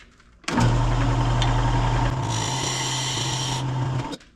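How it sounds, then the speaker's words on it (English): A lathe spins a wood blank while a scraper is pushed in to cut a dovetail tenon, producing a steady motor hum with a harsh, continuous scraping rasp that starts abruptly, holds for several seconds, then cuts off, close and loud. "I use my scraper, very simple. Push it in and you're good."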